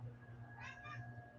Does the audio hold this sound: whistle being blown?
no